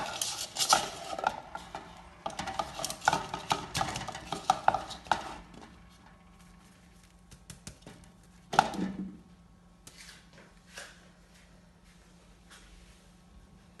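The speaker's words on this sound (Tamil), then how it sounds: "இப்போ நான் வந்து ஒரு சட்டிக்குள்ளே இதை கொட்டி ஆற விடணும்." Steamed paalputtu is tipped from a steamer into a pan with a clatter of scraping and knocking utensils, busiest at first, then sparse taps against a low steady hum.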